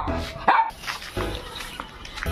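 A dog on a household property gives a few sharp barks and yips close by, mixed with background noise and some muffled human voices.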